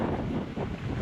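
Wind roars steadily across the microphone of a motorbike ridden through rain on a Konkan road. The buffeting is loud and continuous from start to end, with no voices.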